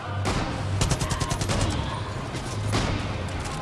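Bursts of AK assault rifle fire in the video game Far Cry New Dawn, dense rapid shots crackling loudly over a continuous low game rumble.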